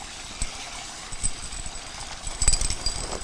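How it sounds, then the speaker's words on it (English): Gravel rushes through a high-banker sluice boom during gold prospecting. A steady wash of water-like hiss is broken by scattered knocks and rattles of stones, growing busier toward the end. "That's the sound of gravel being moved through the sluice."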